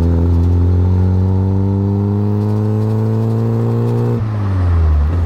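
A Lada Riva being driven, its engine droning steadily and loud and close, with a rising pitch that drops sharply as a gear change comes near the end, with no talk over it.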